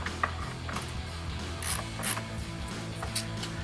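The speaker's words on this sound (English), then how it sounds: "We are just unscrewing the rest of these screws." Screws being backed out of a Jeep Wrangler JL third brake light housing, with quick ratcheting clicks and small mechanical turning sounds repeating up close.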